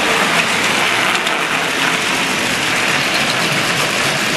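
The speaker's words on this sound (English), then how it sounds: "Can I show you the fan on the top? The fan spinning there in the top." A small fan spins on top of a model diesel locomotive, producing a loud, steady, hissing whir that stays constant throughout with no talking.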